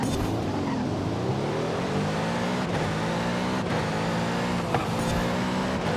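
AI-driven race cars in Forza Horizon 5 roar steadily and loudly throughout, engine pitch rising and falling through gear changes, with brief sharp tire or impact transients and no talking.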